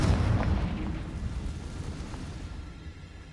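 A Confringo blasting spell from Hogwarts Legacy bursts in a single loud, close explosive boom, its deep rumble decaying steadily over a few seconds with no talking.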